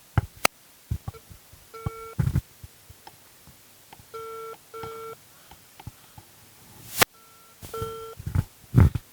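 An outgoing phone call plays repeated electronic beeping tones in short paired bursts, moderately loud, mixed with scattered clicks and handling knocks and no speech.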